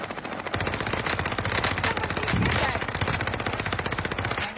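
Video game battle royale gunfire, a rapid automatic burst that rattles on continuously after a brief quiet start, loud and close, with no talk.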